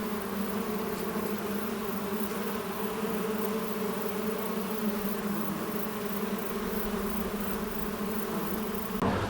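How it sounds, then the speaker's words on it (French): Pollinating insects such as hoverflies and bees fly over a field, making a continuous, layered droning buzz of wingbeats that holds steady throughout with no voices. "la plupart des insectes qui pollinisent, notamment dans les champs, font des vibrations à l'air que l'on entend"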